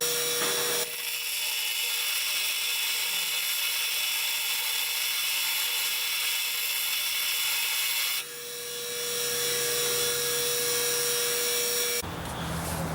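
Angle grinder cutting out the corners of metal stool parts to make room for a weld, a loud steady high-pitched whine running continuously with a brief dip near the end.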